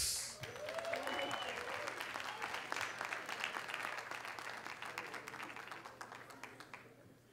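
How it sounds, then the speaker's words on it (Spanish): A crowd at a stand-up comedy show applauds to welcome a comedian to the stage, a fast, dense patter of many hands that starts suddenly and holds for several seconds, then slowly thins and fades. "Vamos a recibir con un fuerte aplauso a un buen comediante."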